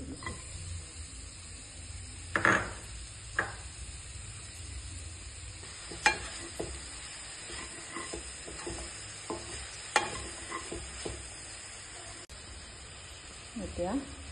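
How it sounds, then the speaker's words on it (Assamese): Coconut stirred and fried with jaggery and ghee in a pan, a soft, steady sizzle with scattered scraping stir strokes throughout, close and fairly quiet. "অকণমান ভাজি লৈছোঁ, এনেকৈ গুড় দি দিছোঁ"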